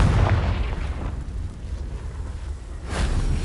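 A Confringo spell explosion in Hogwarts Legacy erupts as a booming blast with a long rumbling roar, then a second burst swells near the end.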